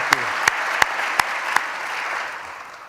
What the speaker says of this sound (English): Let's give Alice a big round of applause.